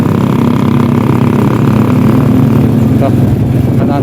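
Motorcycles pass slowly through stalled traffic on a road in Tanay, Rizal, their engines puttering loud and close in an uneven, overlapping drone with a brief rising rev near the end.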